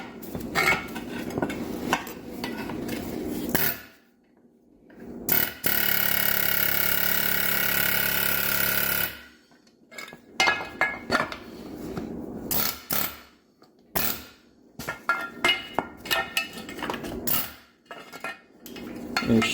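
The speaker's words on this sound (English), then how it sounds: "I'm just going to try knocking this out the rest of the way with an air hammer." Air hammer knocking a suspension bushing out of a 1973 Dodge Dart, loud, close rattling bursts with a sustained run in the middle and short stabs and metal clanks between pauses.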